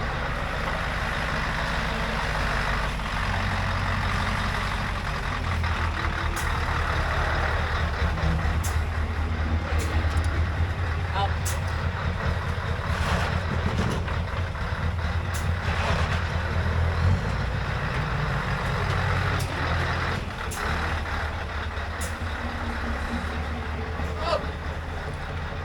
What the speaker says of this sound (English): Gonna try and hitch up to it now.